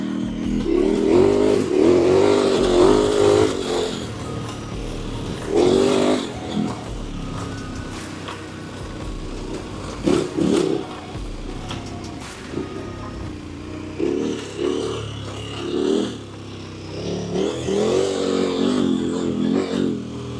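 KTM 1290 Super Adventure R motorcycle, rebuilt after crash damage, ridden along a dirt road; a continuous engine drone rises and falls with throttle blips and surges, fairly near, with wind and road noise throughout and no talking.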